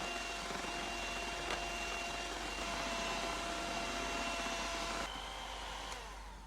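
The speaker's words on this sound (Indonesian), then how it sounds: "Ini kita mixer kuning telurnya hingga mengembang dan berjejak." An electric hand mixer runs at top speed whipping egg yolks for a tres leches milk-bath cake, giving a steady high-pitched motor whine with a constant drone that eases off near the end.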